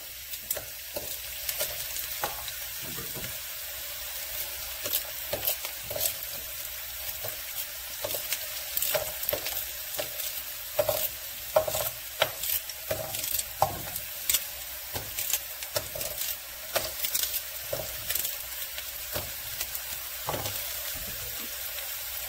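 Carrots and pork stewing in a skillet, a soft simmering sizzle broken by frequent spoon scrapes and clacks as the pot is stirred, close and fairly quiet.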